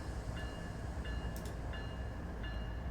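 Several locomotives in Train Sim World 3 begin pulling a heavy train, giving a steady low rumble with faint periodic squeals and clanks recurring roughly every second.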